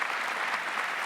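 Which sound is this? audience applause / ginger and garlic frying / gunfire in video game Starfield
audience applause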